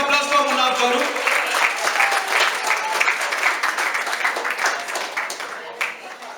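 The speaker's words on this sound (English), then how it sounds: "A big round of applause for Munaf Garu" An audience gives a big round of applause for Munaf Garu, the chairman and founder, as he comes onto the dais at a Ramadan event. Dense, steady clapping fills the whole stretch, with a voice briefly audible at the start.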